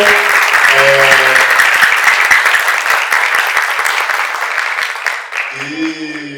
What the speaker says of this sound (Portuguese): Eu peço uma salva de palmas novamente para essa galera aqui